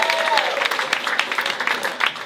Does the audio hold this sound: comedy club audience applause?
yes